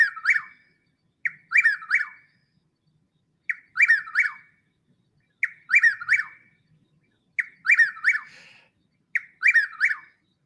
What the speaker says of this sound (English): Here is chuck-will's widow.